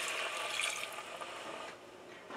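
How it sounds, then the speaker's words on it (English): A cup of water pours into a pot of drumstick soup, a soft continuous splashing hiss that tapers off over a couple of seconds. "I am adding 1 cup of water"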